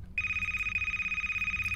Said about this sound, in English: Ring, ring. Oh, there's a phone.